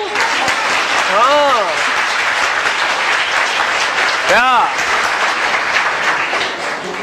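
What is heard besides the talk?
audience clapping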